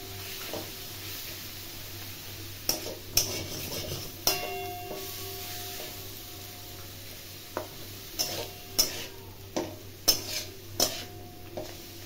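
Red amaranth leaves go into hot oil after fried lentil dumplings and poppy seeds, with faint sizzling under repeated clinks and scrapes of a spatula stirring in the pan, and no one talking.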